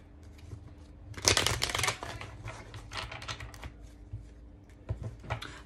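Oracle cards being shuffled by hand: close, soft riffling and flicking bursts, one louder at the start, then lighter scattered shuffles in a quiet room.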